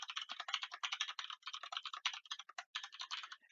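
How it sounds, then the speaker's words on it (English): Fingers type an email on a computer keyboard, a fast, steady run of light clicking keystrokes with brief pauses, close and without any talking. "you can type whatever you want into the body of the email"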